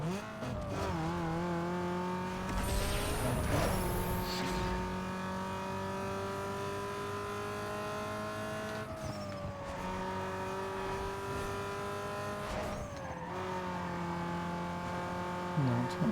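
Peugeot car engine racing in Need for Speed Underground 2, a loud sustained engine drone with shifting revs and gear changes, tire squeal and a brief whoosh, running continuously up close throughout.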